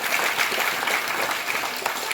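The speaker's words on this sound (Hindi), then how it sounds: "नंबर 3, ताली बजाइए" Seated crowd at an indoor meeting class claps together in a dense, steady burst of applause lasting a couple of seconds.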